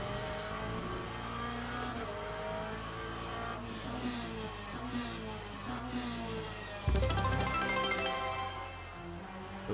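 GT3 race car engine in the sim racing game Le Mans Ultimate, droning steadily with layered harmonic whine through gear changes, then a sudden louder low-end burst near the end as the car revs hard.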